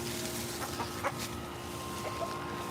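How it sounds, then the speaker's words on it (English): Chickens clucking softly while pecking at food scraps outdoors in a garden among flowering plants and fruit trees, a few short clucks scattered over a steady background hum. "Chickens are eating some scraps."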